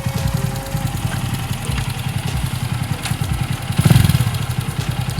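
Viar Vintech 200 motorcycle engine idling close by with a deep, steady, rapid thumping pulse and a brief rev near the end.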